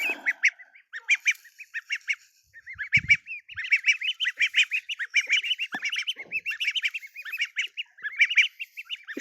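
Ducks and geese feeding on scattered grain on the ground, giving a dense run of nearby honks and quacks in rapid overlapping bursts, with one brief thud partway through.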